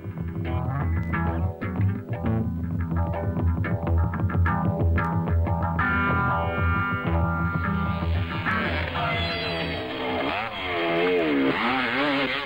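A dirt motorcycle engine under hard throttle on an off-road track, a loud buzzing two-stroke-like whine that holds, then climbs and wavers in pitch, close and continuous without speech.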